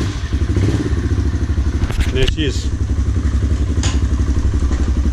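A Kawasaki KLX 140 dirt bike engine idles close by with a steady, rapid popping rhythm, a few clanks over it and a short remark spoken.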